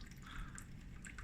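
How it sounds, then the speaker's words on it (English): Water drips steadily inside a terrarium or paludarium build, a soft continuous trickle with faint scattered plinks over low background hiss, close and quiet with no talking. "I've got the drip in the back now."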